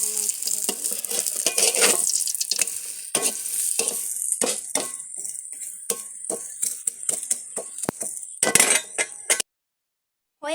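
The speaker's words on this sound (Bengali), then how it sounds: "এখন আমি আবার পরোটা দিয়ে দিব এটার মধ্যে দিয়ে ভালো করে নাড়তে হবে।" Sweet potato paratha fries in hot ghee with a steady, close sizzle, punctuated by scraping stirs and metallic clinks from a utensil against the pan, then cuts to brief silence near the end.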